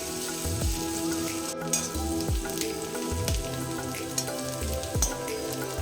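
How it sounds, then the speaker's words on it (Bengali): Onions frying in oil in a pan for a ridge gourd dish, a steady close sizzle with soft crackle and periodic low scraping bumps as they are stirred, no voices. "এখন পেঁয়াজটাকে গোল্ডেন ব্রাউন করে ভেজে নেব।"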